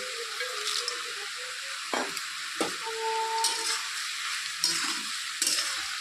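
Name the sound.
lentil dumplings (dal bori) added to the pan and stirred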